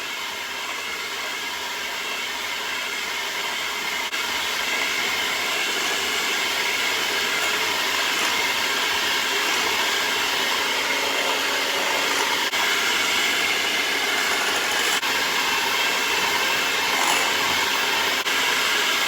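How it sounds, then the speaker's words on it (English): An electric mixer runs steadily for the whole stretch, a continuous whirring drone with no pauses, as extra large room-temperature eggs are beaten one at a time into butter and sugar for a pineapple upside down cake batter. "We're going to add them 1 at a time, beating after each egg."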